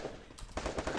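Automatic gunfire in the Free Fire mobile battle game, a short rapid burst of shots that grows louder within a second, heard through game audio with no talking.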